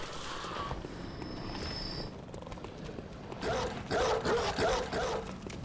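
A dog barks and yips in a series of short, sharp bursts near the end, moderately close, over a steady background rumble.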